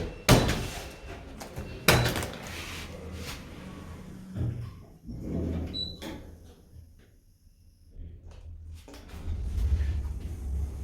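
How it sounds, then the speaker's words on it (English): Lift doors at a railway station close with a couple of sharp thuds and sliding rumbles, spaced a few seconds apart, amid quieter mechanical clatter and low hum near the platform. "Doors closing."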